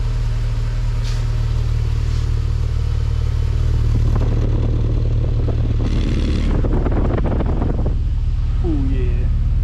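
A Honda Accord CL9 Type R with a modified exhaust idles in a low, steady drone, partly buried under heavy wind buffeting on the microphone, with brief clattering and voices.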